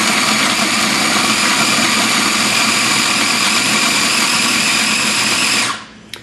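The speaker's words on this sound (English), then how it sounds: "We're going to put it in the processor" A food processor grinds sambal paste for a Vietnamese wok-tossed eel dish, a loud, steady whirring motor roar running continuously for several seconds before cutting off abruptly near the end, with no talking.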